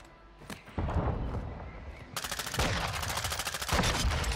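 Gunfire in the shooter game Warzone on the Vondel Park map, with loud close bursts of rapid automatic fire and scattered single shots overlapping in sustained rattling volleys.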